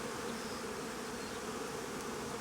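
Worker bees and a queen bee inside a hive, a dense continuous buzzing hum of many insects, close and steady throughout, with no voices.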